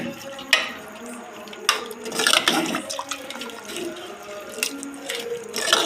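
Chicken curry being stirred and mixed in a pot after turmeric and salt were added, with wet scraping and sloshing sounds, a few sharper clinks, and occasional faint talk.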